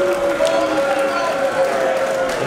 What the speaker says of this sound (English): This crowd came alive.